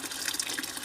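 Hot water pours into maize flour for ugali, a short, soft liquid splash and trickle heard close up with no talking.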